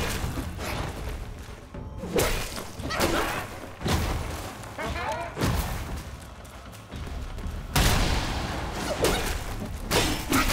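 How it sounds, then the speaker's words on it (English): Repeated booming blasts from Black Myth: Wukong, heavy and close, rolling one after another with voices talking over them. "How many explosions is this guy gonna do?"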